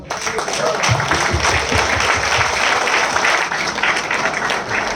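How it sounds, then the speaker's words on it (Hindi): Loud, sustained clapping from a seminar audience at a direct-selling event in Goa, many hands beating steadily and close by for the whole stretch, with a little voice faintly underneath. "क्या बात है, क्या बात है, जोरदार ताली होना चाहिए।"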